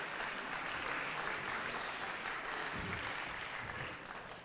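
An audience at an awards ceremony applauds in a dense, steady burst of clapping that stays strong for several seconds and eases slightly toward the end, with no speech over it.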